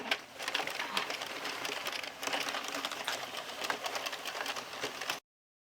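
A knitting machine runs rows across a flat panel during a colour change, its carriage giving a steady, busy clatter that stays fairly faint and unbroken for several seconds before stopping abruptly.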